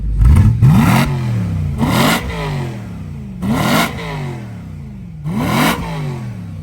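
A stock BMW E92 M3 S65 V8 revs hard four times in quick succession, each loud throttle blip rising then falling back to a burbling idle with a deep exhaust note.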